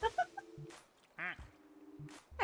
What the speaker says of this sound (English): I like making him quack.